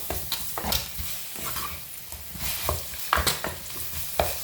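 Tomatoes sautéing in hot oil for an egg curry, with a steady sizzle and repeated scraping, clacking stirs from a spoon against the pan, close and moderately loud.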